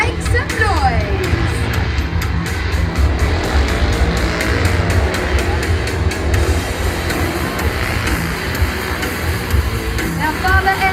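Roaring super truck engines race past loudly and continuously in an arena, with a booming announcer and crowd noise over the steady low rumble.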